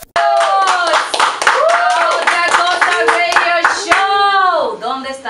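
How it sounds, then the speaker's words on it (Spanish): Studio applause on a radio talk show: sharp clapping of a few hands in a quick irregular rhythm, heard close and loud under and between an animated voice talking throughout. "Ahora llegaron los aplausos"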